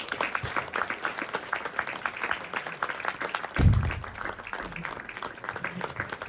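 Theatre festival audience applauding a performer, a dense crackle of clapping from a large crowd, steady and moderately loud, with a brief low thump partway through.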